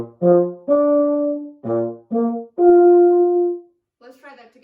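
Brass instrument playing a short etude passage with all notes fingered open, moving across tricky partials: six sustained, accented tones in a row, close and clear, then a brief, faint fragment at the end.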